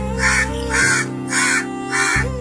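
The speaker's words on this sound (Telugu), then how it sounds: "కాకి అరుపులు తెలుసు కదా కావు కావు అంటుంది" A crow caws four times in a steady rhythm, loud and close, over a constant low drone in the background.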